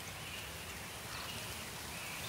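Steady rain falls in a forest, a soft even hiss with faint drips on leaves throughout, no voices.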